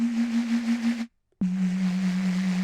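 A Vital synth bass patch with a fire sample feeding a high-pitched sine oscillator gives a steady, loud sustained tone over a crackling noise layer. It cuts out briefly to silence before resuming.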